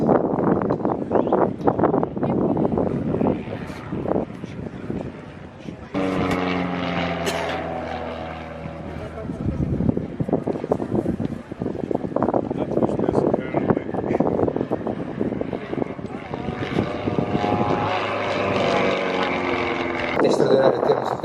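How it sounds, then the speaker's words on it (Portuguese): Propeller aerobatic airplane performing at an outdoor air show, engine droning and changing pitch as it passes overhead, fading and returning in steady harmonic whine with wind noise, while a commentator talks over it throughout. "Motor a parar, é uma coisa normal quando o avião está em voo invertido."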